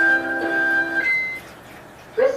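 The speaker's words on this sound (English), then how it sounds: "When you choose an acidic setting, the unit will also play a melody that will alert you that you have the machine set to an acidic setting" A water ionizer plays a short electronic melody of clear, sustained beeping tones to signal that its acidic setting is selected. A brief voice follows afterward.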